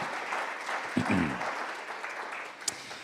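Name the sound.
congregation applauding in church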